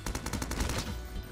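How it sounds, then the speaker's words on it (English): Rapid automatic bursts from a Sterling submachine gun in Modern Warfare VR, a quick string of about eight sharp evenly spaced shots, close and loud, then a brief tail. "My favorite gun in the game, the Sterling. Kicking it back World War II style."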